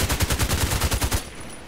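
Rapid burst of about ten HK417 rifle shots fired in a video game, loud and close in an even rhythm, ending abruptly with a short fading tail.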